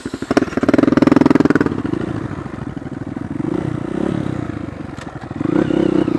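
A dirt bike engine revs hard on a sandy trail, then drops to a rough, clattering idle before revving again, close and loud, with brief scraping clatter in between.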